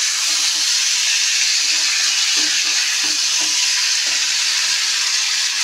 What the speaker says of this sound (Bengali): টমেটো দেবো বন্ধুরা, টমেটোটা কেটে আর দিয়ে দিলাম।